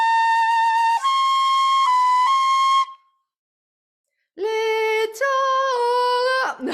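A shinobue, a Japanese bamboo transverse flute, plays a simple melody with slow, sluggish finger taps between notes, giving smeared transitions; a steady phrase, a short silence, then a second brighter phrase, close and clear.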